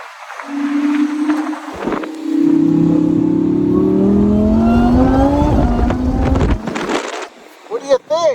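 A supercharged Lamborghini Huracan engine revs up with a rising, whining supercharger tone that climbs over several seconds, loud and close, then cuts off, with voices talking over parts of it.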